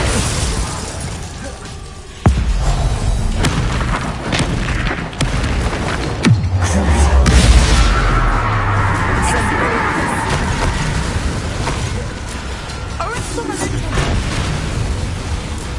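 Fiery explosive spells burst during combat in Hogwarts Legacy, sharp booming blasts at about two and six seconds followed by a rumbling roar amid ongoing battle noise and shouted voices.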